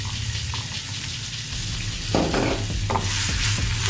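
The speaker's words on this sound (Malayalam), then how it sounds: "മുറിച്ച് വെച്ചിരിക്കുന്ന വെളുത്തുള്ളി, ചെറിയ പീസാക്കി മുറിച്ച് വെച്ച വെളുത്തുള്ളി ചേർത്ത് കൊടുക്കാം." Chopped garlic crackles and sizzles loudly in hot oil in a pan, a continuous close frying hiss with spoon stirring and scraping sounds that grow busier in the second half.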